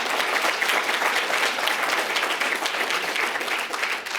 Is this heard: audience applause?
yes